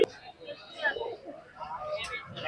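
Pigeons coo at a busy pigeon market, soft throaty calls mixed with someone talking nearby and general crowd bustle.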